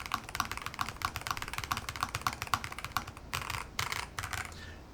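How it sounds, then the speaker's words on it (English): Rapid typing on a Lofree Flow 2 mechanical keyboard used without a desk pad, a close, crisp stream of key clacks in an even rhythm, pausing briefly near the end before a final short burst. "I really think they did a good job on the sound and the acoustics and the feeling of this keyboard"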